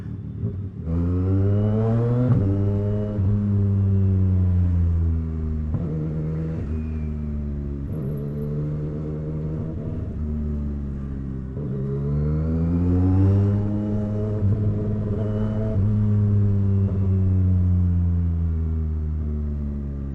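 A CFMOTO 675 SR-R motorcycle engine heard while riding, loud and close, rising in pitch through the gears, easing off and climbing again, with a steady engine drone throughout and no speech.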